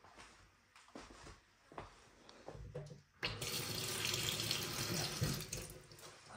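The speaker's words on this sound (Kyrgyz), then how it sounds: "Раковина орнотулуп, суу чыгарылыптыр." Water runs from a kitchen sink tap in a house for sale, starting softly with some knocks and clatter, then gushing loudly and steadily from about the midpoint to the end, close by.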